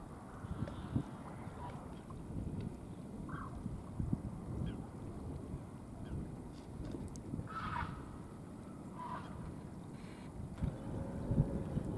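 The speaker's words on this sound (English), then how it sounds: "from here you can see some nesting herons, which I've never seen before, and they make some very strange noises" Nesting herons at a reservoir give strange, croaking calls at a distance. Several short squawks rise over a low, steady outdoor rumble.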